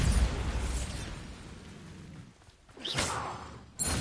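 Spell blasts such as Confringo and Bombarda burst in a wizarding video game, a few muffled explosive whooshes and pops spread across a few seconds, with a sharper blast near the end.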